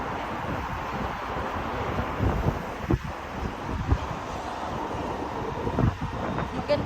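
Strong, cold wind buffeting outdoors during a walk at a flower festival, a constant rough roar with gusty thumps against the microphone, loud and close, no clear speech.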